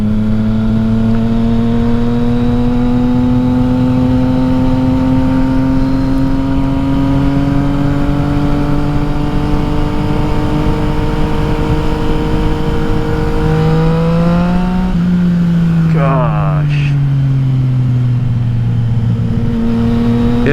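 A Yamaha XSR900 motorcycle with an Akrapovic exhaust drones loudly and close while riding, its engine note climbing steadily before dipping and rising again with a few crackling pops.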